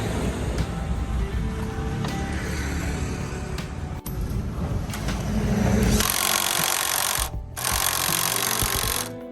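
A low-budget RS510 cordless impact wrench tightens a nut, giving a loud, steady broadband mechanical roar that grows harsher and more intense toward the end, with a brief cut-off before it resumes.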